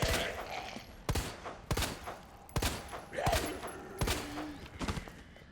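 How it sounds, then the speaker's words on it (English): Handgun shots in Resident Evil 2 Remake, about seven sharp, punchy reports fired at uneven intervals of roughly one second, each with a short tail, over quiet game ambience. "Just gonna take shots at him with a handgun."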